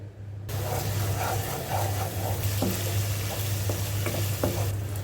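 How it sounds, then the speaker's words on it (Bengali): Spice paste frying in oil for a special duck curry, stirred steadily in the pan with a continuous close sizzle and scattered scraping clicks from the spoon. "এগুলোকে জাল করে নিব এবং খুব ভালোভাবে মিক্সড করে নিব যতক্ষণ না তেলটি উপরে ভেসে উঠছে"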